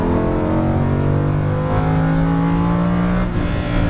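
Lamborghini Huracan LP610-4 accelerating on track, loud engine note climbing steadily in pitch with a slight dip near the end, heard from inside with no talk.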